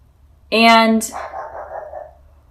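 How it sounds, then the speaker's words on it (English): A single dog bark rings out clearly, followed by a short murmur of voice, over a quiet low hum. "I don't know why my dog is barking"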